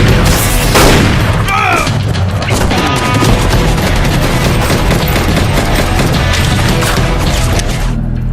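Film action scene with a loud, dense exchange of gunfire, heavy booms and rapid shots piling up almost without pause for about eight seconds, with a faint voice now and then beneath the chaos.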